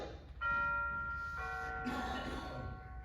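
A doorbell chiming indoors, two clear ringing tones one after the other with a lingering ring, moderately loud under a quiet room background, no talk.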